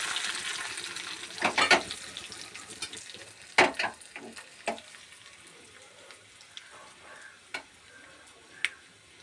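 Curry leaves dropped into hot oil with mustard seeds and dried red chillies for tempering, a soft sizzle broken by several sharp spattering pops and clinks, fairly quiet with no talk.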